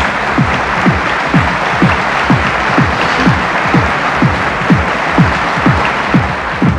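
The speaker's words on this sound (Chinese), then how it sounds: "我想请大家再一次用掌声支持我们所有参赛的选手" Sustained audience applause at a 1999 elite modelling contest selection final in China, steady dense clapping with rhythmic accents, loud and close, continuing without a break and no speech over it.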